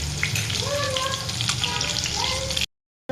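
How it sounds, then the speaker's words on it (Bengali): Boiled eggs with a little turmeric fry in hot oil during egg biryani preparation, a steady close sizzle with faint voice-like tones over it, cutting off into brief silence near the end. "এবারে এটা একটু ভেজে নিই"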